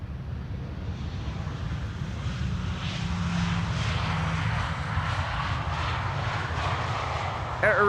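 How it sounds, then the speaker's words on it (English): KLM Boeing 777-200 airliner arriving at Amsterdam Schiphol: a steady, loud jet engine roar with wind rush, sustained and building slightly as the aircraft passes. "The next airplane after this is going to be a 777-200 Over there, already visible, KLM flight 682"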